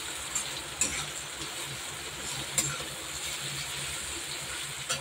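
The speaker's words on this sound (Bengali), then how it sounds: "আর এদিকে উচ্চে ভাজাটা করে নিচ্ছি আমি" Bitter gourd slices frying in a pan, a steady close sizzle with occasional stirring scrapes and clinks, continuous throughout without talk.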